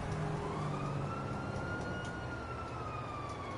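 Police sirens wail in the video game GTA V, a steady rising and falling siren tone heard at a distance over continuous traffic and engine noise, with no talking.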